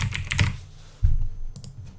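Quick bursts of keystrokes on a computer keyboard, a close cluster of clicks at the start, a short pause, then another few taps toward the end.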